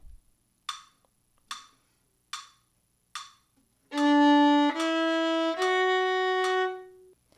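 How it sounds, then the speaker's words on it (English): Four sharp, evenly spaced metronome clicks count off a steady tempo, then sustained violin notes enter loudly and hold in stepwise succession. "You'll hear 4 clicks to set the tempo."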